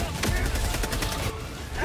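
Dense, continuous automatic gunfire from a Helldivers 2 firefight: rapid overlapping shots fired in a sustained, chaotic burst that stays loud and close throughout.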